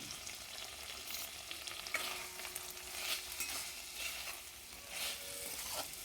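Bean bhaji with coriander stirred in a pan, giving a quiet, continuous sizzle with soft, scattered scraping throughout and no voices.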